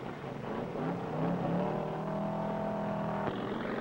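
Crosley-powered Lakester race car taking off on the Bonneville salt flats at a 1951 speed trial, engine revving and rising in pitch as it pulls away, moderately distant and fairly faint.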